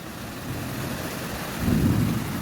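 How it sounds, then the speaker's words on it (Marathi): Heavy rain pours steadily amid a wind-driven storm with hail, a dense broadband hiss throughout, with a low rumble of thunder swelling near the end; no voices. "सगळं पाऊसच आहे इकडं"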